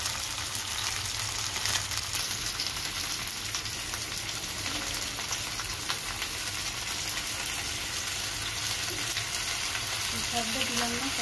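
A paste of ginger, garlic, onion and green chili frying in hot oil for chicken in a village kitchen, giving a dense, continuous sizzle close by throughout.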